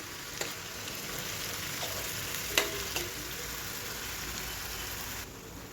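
Coriander-heavy green spice paste for jackfruit curry frying in oil, a steady broadband sizzle throughout with a few sharp crackles and pops, close and even, no talking.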